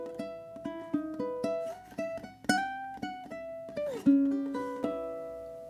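Fingerstyle blues ukulele plays two bars of a slow blues in E, plucked single notes and chords ringing one after another with clear attacks, close and moderately loud, no voices.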